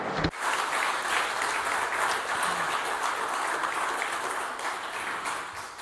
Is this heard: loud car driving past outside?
no